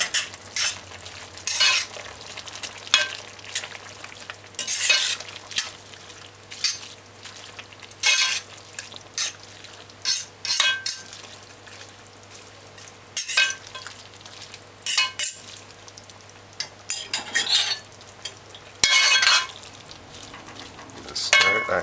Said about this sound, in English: Now after 8 minutes, we're gonna stir this for the first time.